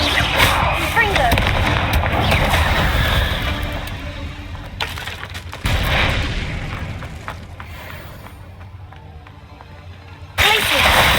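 Confringo fire spell blasts in Hogwarts Legacy, a series of booming, fiery bursts with crackling tails, followed by a sharp new blast near the end, loud and close.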